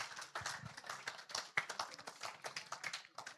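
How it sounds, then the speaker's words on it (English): A seated audience at a talk breaks into steady, mid-level applause, many hands clapping in a dense, slightly uneven patter that holds throughout without any voices on top. "Give him a round of applause."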